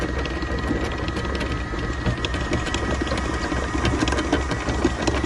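A sailboat's engine motors steadily near an island on a foggy morning, giving a continuous close, loud mechanical drone with a fine rapid chatter that never lets up.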